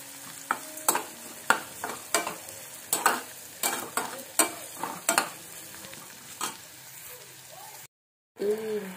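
Garlic and baby corn sizzle in a pan while a ladle scrapes and stirs in quick, regular strokes, each scrape sharp and close. The clatter stops briefly near the end, then the frying picks up again.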